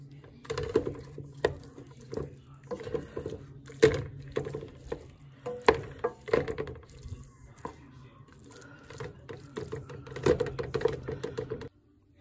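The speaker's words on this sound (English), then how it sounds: "I apologize for the clip of the stirring." Cauliflower mac and cheese with melted cheese and hot sauce being stirred in a pot, giving a run of irregular wet squelching and soft clicking knocks, close and fairly quiet, with brief pauses between strokes.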